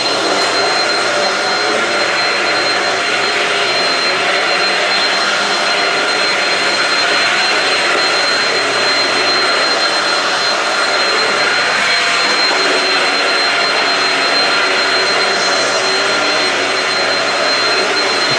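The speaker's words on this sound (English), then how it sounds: "Now I need to vacuum through here." A Shark vacuum cleaner runs steadily and loudly over carpet in a resort room, a continuous whooshing roar with a thin high whine above it.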